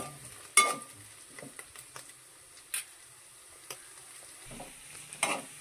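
Curry ingredients frying in a pan are stirred with intermittent scraping and knocking strokes over a soft, continuous sizzle, heard close up with no talking.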